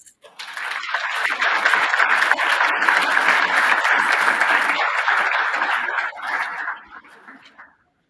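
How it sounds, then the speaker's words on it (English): Warm audience applause for speaker Annemarie Phelps at a sport leadership session, dense clapping that builds quickly, holds for several seconds, then thins out and stops. "So please give a warm round of applause for Annemarie Phelps"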